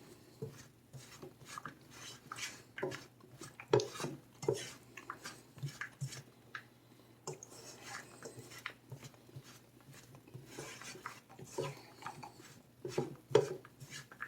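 Candied almonds being stirred in a pan, with quiet scraping, rattling and clinking of a utensil against metal in an irregular rhythm, close and soft.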